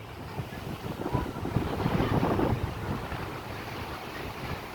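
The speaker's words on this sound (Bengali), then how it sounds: "আজ সকালের জোয়ারে ব্যাপক উত্তাল দীঘার সমুদ্রে জলরাশি" Rough high-tide surf at Digha beach, India, churns and crashes continuously during a rainstorm, a broad rushing roar mixed with gusty wind buffeting the microphone, swelling in the middle then easing slightly.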